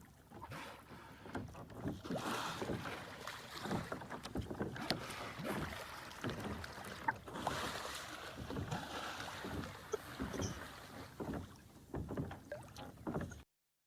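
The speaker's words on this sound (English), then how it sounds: "You can definitely hear the kayak and the paddle knocking against it." Quiet, hollow knocks of a paddle against a kayak hull on the Chesapeake Bay, repeating irregularly amid soft water splashing and faint wind, no voices.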